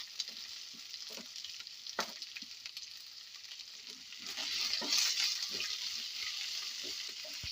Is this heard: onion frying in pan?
yes